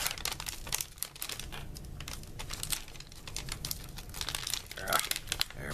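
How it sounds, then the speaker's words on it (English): An MRE ratatouille pouch is torn open by hand, giving a run of close crinkling, crackling plastic and sharp ripping bursts with an uneven rhythm, loudest near the end. "Tear this guy open."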